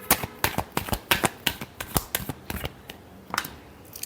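Tarot cards being shuffled by hand in a quick series of crisp riffling snaps and flutters, close and clear, easing off near the end.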